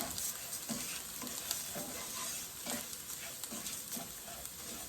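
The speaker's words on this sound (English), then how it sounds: "let the rice saute for a minute" Rice sautés in a pot for mujaddara, giving a continuous soft sizzle with periodic scraping stir strokes, close and fairly quiet, with no talking.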